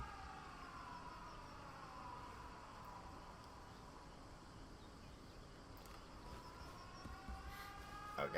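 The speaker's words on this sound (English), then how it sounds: "The sirens." Wailing sirens in the video game 13 Sentinels: Aegis Rim, a steady, continuous alarm with slowly sweeping tones that rise toward the end over a dense background.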